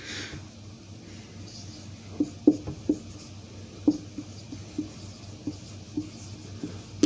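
Chalk or marker writes out a series on a board, a string of quick tapping strokes at an irregular pace over low room hum, close and moderately loud, without talk.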